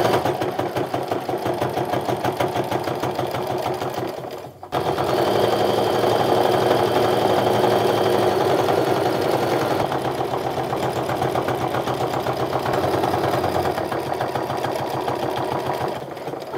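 A sewing machine stitches around a Diva frame wallet, a steady close mechanical whir with rapid needle thumps. It stops briefly near the start, then runs on continuously.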